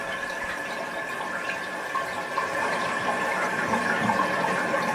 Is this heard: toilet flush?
yes